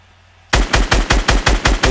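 Automatic gunfire in Fortnite: after half a second of near silence, a loud rapid burst of about eight evenly spaced shots cracks out in quick succession.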